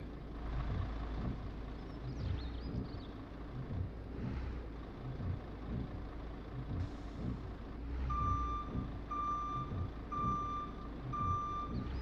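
A truck backing up in a video game, sounding a loud, evenly spaced series of electronic reversing beeps over a constant low engine rumble, with no voices.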